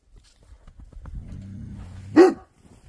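A large shepherd dog on a farm gives a single loud, deep bark near the microphone, preceded by low grumbling and faint background sounds, with no speech over it.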